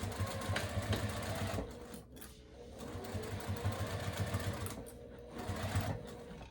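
A sewing machine stitching a strap runs in a steady rapid mechanical whir, pausing briefly twice and starting again, close and moderately loud with no talking.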